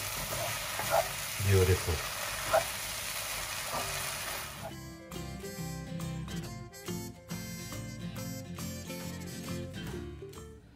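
Soy sauce noodles with spring onion stir-fried in a wok give off a loud, steady sizzle with bursts of tossing, which turns into clinking, rhythmic stirring scrapes partway through. A voice speaks briefly near the start.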